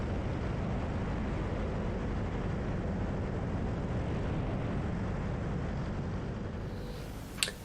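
An FMS Super Cub model airplane buzzes steadily overhead with a constant propeller whine, fairly loud and unbroken, then fading slightly near the end.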